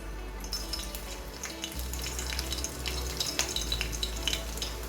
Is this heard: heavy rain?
no